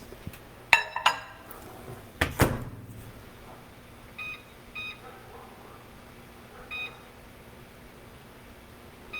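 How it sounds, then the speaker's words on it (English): A microwave oven melting half a cube of butter gives a few sharp clicks and clunks, then a series of short electronic beeps, all in a quiet kitchen. "I've got half a cube of butter that I'm gonna throw in the microwave and melt it."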